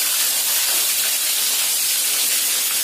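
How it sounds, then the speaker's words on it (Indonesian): Two pieces of chicken fry in hot oil, giving a steady, loud, close sizzling hiss that holds evenly throughout with no talking. "Kita goreng ayam guys."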